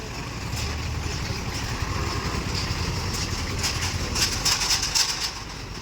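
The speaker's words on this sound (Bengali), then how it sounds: "ট্রেন কিন্তু আসতেছে, ওই যে" A train approaches on a busy railway line beside a crowded road, a continuous rumbling roar that holds steady with faint higher tonal notes toward the end.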